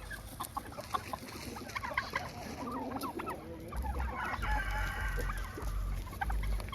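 Homestead chickens cluck in scattered short calls as they feed on bread scraps, with a rooster crowing nearby and turkeys mixed in, all close over a low rumbling background.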